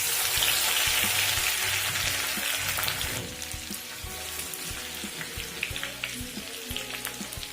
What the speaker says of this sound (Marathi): अर्धा चमचा जिरा घालून घ्यायचा आहे। आलं लसूण पेस्ट घालून घेऊया।